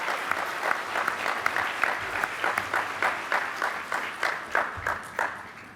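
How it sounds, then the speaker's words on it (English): An audience applauds in steady, rhythmic waves of clapping at a moderate distance, sustained throughout with little other sound. "Let's give them another round of applause."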